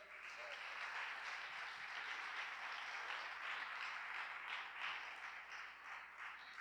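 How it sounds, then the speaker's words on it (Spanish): Quiet, steady applause from a church congregation, a continuous soft patter of many hands that holds evenly for several seconds at a distance. "Ayúdeme a dar un aplauso al Señor."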